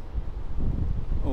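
Wind rumbles against the microphone on the Caminito del Rey cliff path in Andalusia, Spain, a short close buffeting burst of low noise that swells and eases.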